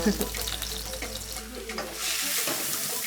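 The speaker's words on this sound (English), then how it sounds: "we're going to put in some cumin seeds. Hear those sizzling" Seeds sizzle and crackle in hot oil, a steady close-up frying hiss that grows brighter and louder toward the end, with no voices.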